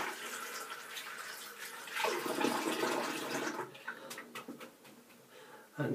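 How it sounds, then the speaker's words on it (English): Water gurgles and rushes as an overflowing shaving basin is drained. The flow is steady at first, then turns irregular with splashes and drips near the end. "we're overflowing. So I'm just going to drain a little water."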